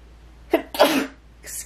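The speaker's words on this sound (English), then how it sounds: "I got a sneeze coming." A person sneezes once close to the microphone, a short sharp intake and burst of breath followed by a fainter trailing exhale.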